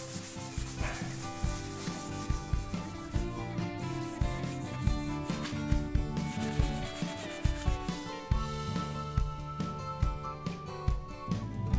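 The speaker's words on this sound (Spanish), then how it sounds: "A lijar todo el armario." Steady scratchy rubbing of sandpaper over a wooden wardrobe, back-and-forth strokes in a continuous rhythm, close and fairly loud, with no talking.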